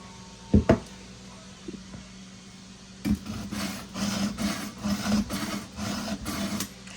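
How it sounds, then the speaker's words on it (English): A kitchen knife is drawn repeatedly through a manual knife sharpener before a whole turkey is broken down, making a series of rhythmic, close rasping strokes after a couple of sharp knocks. "So this is the knife sharpener here that we use. And just go ahead and get it sharpened up."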